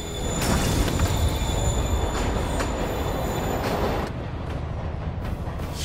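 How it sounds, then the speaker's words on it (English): Subway train in the Spider-Man PS4 video game pulling away from a platform, a loud rumbling roll of wheels on rails with a faint squeal, fading somewhat toward the end. "Train moving."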